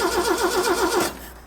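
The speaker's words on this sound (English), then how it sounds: "just the engine cranking should make that pump work" A 40-year-old Ford engine cranking without catching, the starter churning in a rapid rhythmic whir for about a second before dropping away, close and moderately loud.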